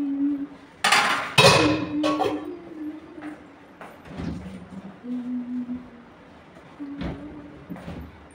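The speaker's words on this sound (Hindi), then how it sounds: "कुछ बर्तन है इनको कर लेते हैं साफ" Dishes and utensils being washed at a home kitchen sink in the evening, with a few sharp clinks and clatters of metal pots and cutlery near the start, then quieter intermittent knocks, scraping and running water.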